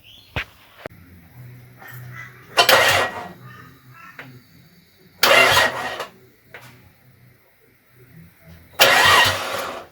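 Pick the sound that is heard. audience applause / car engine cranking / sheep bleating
car engine cranking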